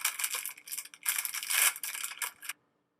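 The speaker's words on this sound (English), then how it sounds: "I guess I was opening like makeup remover wipes or something." Makeup remover wipes being opened, a package crinkling and rustling loudly in bursts for about two and a half seconds before it stops.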